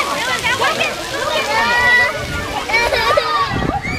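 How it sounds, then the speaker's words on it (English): Water splashing as a young child plays at a summer theme park, a constant sloshing and spattering close by, mixed with children's voices and chatter throughout. "I've got Lana playing in the water here"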